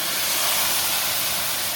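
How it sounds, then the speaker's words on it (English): White wine poured into a pan of toasted risotto rice, giving a loud, steady broadband sizzle and hiss that runs unbroken from start to finish with no voices. "I'm going to pour that in, really hear that sizzle."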